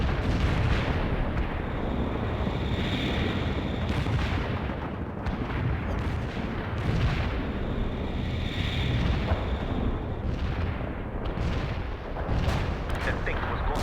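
Artillery strike explosions in the World in Conflict video game rumble and crack in rapid succession, heavy booms overlapping into a continuous barrage with wind-like noise throughout.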